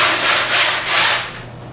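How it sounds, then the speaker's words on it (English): Light hand sanding across the top of a coated panel (glue-size ground layer), a steady dry rasping in three or four smooth back-and-forth strokes, close and alone. "Just lightly sand the top of that."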